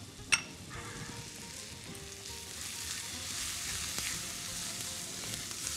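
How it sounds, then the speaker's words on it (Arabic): Onions sizzle in a hot pan, a faint steady hiss that swells gradually after a sharp clink at the start, with light stirring noises. "رح احط البصل"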